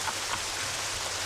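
Steady rain hisses without a break at Marine Drive, a dense even wash of drops and gusty air filling the short stretch with no voices.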